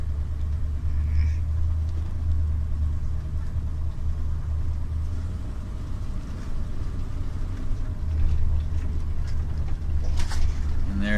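A 1992 Fleetwood Pace Arrow motorhome cruises along the road, its engine a steady low rumble with road and wind noise holding constant throughout, swelling slightly near the end.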